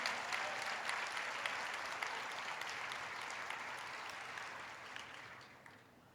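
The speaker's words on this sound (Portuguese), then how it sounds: "pode aplaudir Jesus" A church congregation applauds steadily during a worship service, a dense wash of many hands clapping at once that fades gradually toward the end.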